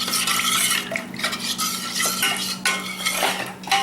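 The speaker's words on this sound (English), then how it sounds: "You want to stir it until everything is well mixed together." Berry cobbler mixture with cornstarch being stirred briskly in a bowl, a continuous close scraping and clinking of utensil against dish with rhythmic strokes and no voices.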